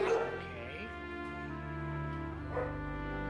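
A puppy whimpers and yips in thin, drawn-out whines, soft and close, with steady background music underneath.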